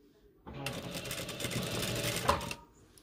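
A sewing machine runs in one steady burst of about two seconds, stitching the edge of a jilbab cape, with a close, even mechanical whir and rapid needle rattle.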